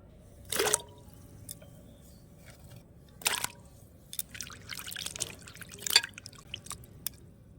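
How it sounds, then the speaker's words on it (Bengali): Thinly sliced carrots are rinsed in a quiet kitchen, with a few separate splashes and drips of water and soft wet handling sounds spaced apart over near silence. "এবার আমি গাজরগুলো হালকা একটু ধুয়ে নেব"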